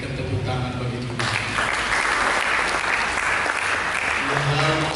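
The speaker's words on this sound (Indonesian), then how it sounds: "Berikan tepuk tangan bagi Tuhan." A church congregation at an Indonesian sermon breaks into loud, sustained applause after a brief moment of a voice, the clapping filling the hall densely and evenly until the end.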